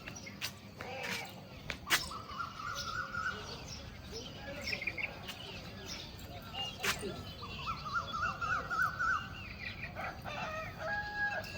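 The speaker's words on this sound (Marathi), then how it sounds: "कोंबडा आरवायला लागलेत." Roosters crow repeatedly in the morning around a village farmyard with cattle, the drawn-out calls rising now near and now farther off over hen clucks, small birds chirping and faint speech.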